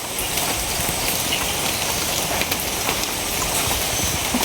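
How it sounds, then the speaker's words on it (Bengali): Light drizzling rain falls steadily as a soft, even hiss with fine pattering throughout, no voices. "সব কমছে না বৃষ্টি, ঝিরি ঝিরি আছেই।"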